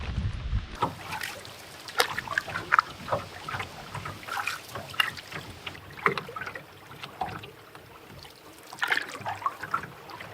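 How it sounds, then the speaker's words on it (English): A canoe paddled across a lake in northern Ontario: rhythmic paddle strokes dip and splash at close range, with water trickling and dripping off the blade between strokes and a faint wind underneath. "So now I am going to paddle over to the 1700"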